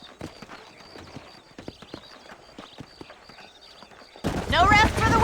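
Horse hooves clop in a quick, steady rhythm at moderate distance in the video game Red Dead Redemption, then a voice starts talking loudly near the end.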